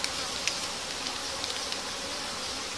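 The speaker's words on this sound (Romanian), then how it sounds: "aici s-a umplut lada cu albină, peste tot e albină" A honeybee swarm with no queen buzzes densely and continuously in a hive box, a close, humming drone with a few brief ticks and knocks.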